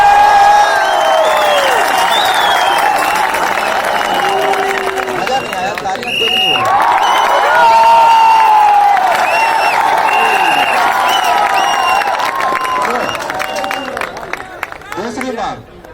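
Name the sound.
audience clapping and cheering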